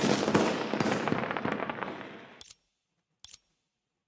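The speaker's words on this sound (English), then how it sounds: "Oh, finally! Finally, yes! Fireworks." Fireworks bursting in the game Honkai Impact, a rapid crackling barrage of pops that thins and fades over two seconds, followed by silence broken by two or three isolated sharp cracks.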